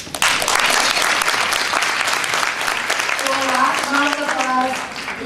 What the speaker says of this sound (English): Un dernier applaudissement for our guests and for you guys, nos invités et pour vous.